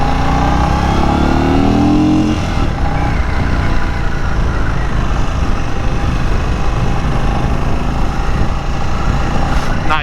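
An Indian FTR R Carbon motorcycle being ridden while its tires warm up, a continuous close engine drone with wind rush that climbs briefly at the start and then holds steady and loud throughout.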